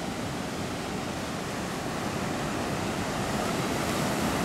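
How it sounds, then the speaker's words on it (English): Rough surf from the Caribbean Sea in Costa Rica washes steadily onto the shore, a dense, continuous roar of breaking waves with wind noise and no voices. "this is the Caribbean Sea right here"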